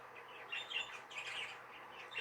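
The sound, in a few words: pet bird chirping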